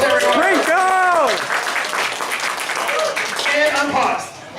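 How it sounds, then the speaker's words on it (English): A crowd at the Retropalooza 5 event applauds steadily for several seconds, mixed with shouting voices and cheers. "Round of applause for Sprinkles, everyone"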